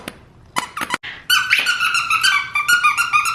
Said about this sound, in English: now there's squeaky noises in the background